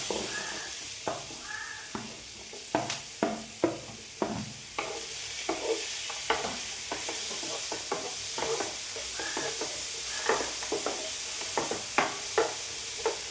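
Small pieces of large ripe banana frying in a pan, a steady sizzle under repeated stirring scrapes and taps of a spatula, close and moderately loud, with no talking.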